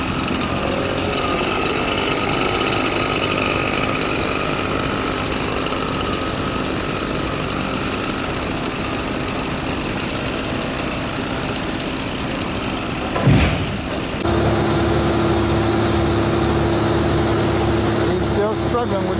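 Tree removal machinery engine working a fallen tree's large root ball near a house, a loud steady diesel roar throughout, with a sudden clunk near the end before the engine settles into a lower idle drone.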